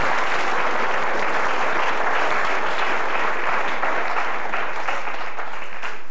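A festival comedy audience gives loud, dense, sustained applause that fills the whole stretch evenly, with no speech over it.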